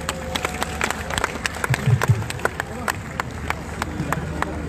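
An audience applauds the president at a public address, scattered sharp claps over crowd murmur and a speaking voice, fairly close and continuous.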